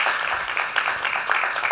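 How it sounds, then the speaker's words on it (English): Applause from an audience at a climate and environmental justice committee event, a dense steady wash of many hands clapping throughout, fairly loud and close with no talk over it. "let's give a big round of applause one more time"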